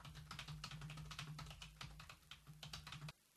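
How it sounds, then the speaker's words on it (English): Typing on a computer keyboard: a quick, close run of light key clicks in an irregular rhythm, heard alone over a faint low hum, stopping abruptly at the end. "I'll type some text."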